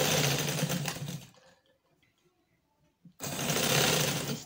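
A sewing machine stitches a fabric strip onto a poncha, running in a loud, close, steady burst, pausing for about two seconds, then whirring again at full speed.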